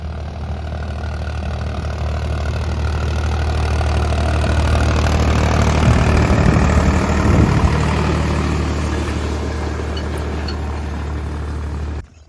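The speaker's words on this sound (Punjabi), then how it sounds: "14 ਕਿ ਮਿੰਟ ਟਰੈਕਟਰ ਚੱਲਦੇ ਨੂੰ ਹੋ ਗਏ" A Farmtrac 60 tractor engine idles and runs steadily nearby, a constant low rumble with a slight swell midway, no voices over it.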